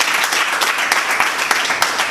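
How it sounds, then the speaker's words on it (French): Audience applause for a hairdresser at an Ecodim school event in Massina: steady, fairly loud clapping from a group, with a few sharper individual claps standing out. "On applaudit la coiffeuse."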